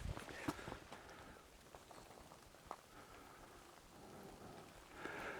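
Rain falling outdoors near a lakeside lean-to shelter in Finnish wilderness, a soft steady patter with scattered closer drops, faint and continuous with no talking.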